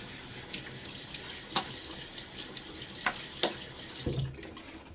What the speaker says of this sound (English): All right, the water on my face.